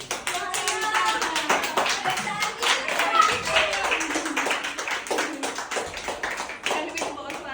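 A group applauds a coach at a party celebrating children's win: dense, steady hand clapping for several seconds, close by, with voices talking and calling underneath.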